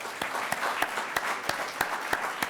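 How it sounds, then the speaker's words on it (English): An audience breaks into applause at a New York symposium's welcome remarks, with a sustained wash of clapping and a few sharper, louder claps standing out at regular intervals. "Let's give them a round of applause."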